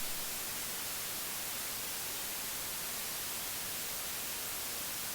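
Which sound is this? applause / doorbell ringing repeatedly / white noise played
white noise played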